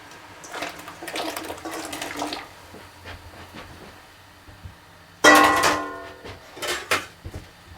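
Frozen tortellini, 20 ounces, drop into a pot of heated water with splashing bursts and clattering against the pot, separated by quieter bubbling gaps.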